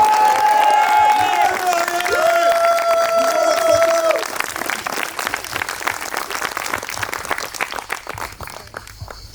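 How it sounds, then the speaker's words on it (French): Guests at a wedding in Cannes applaud the couple, a dense wash of clapping and cheering from a crowd that swells and then thins, heard up close under a sustained tone at the start. "Mes chers invités, je vous demanderai d'applaudir Laure et Vivien."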